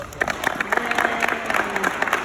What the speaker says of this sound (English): So please join me in a round of applause for our